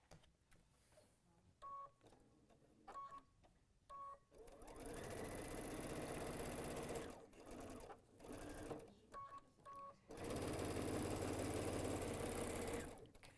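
A sewing machine stitches fabric in two long, loud, even bursts, separated by quieter stretches of short clicks and beeps. The sound is close, with no talking over the running motor.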